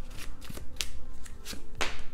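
Tarot cards are drawn and handled during a reading, giving several brief papery snaps and soft rustling flicks close by, spaced irregularly with quiet shuffling between them.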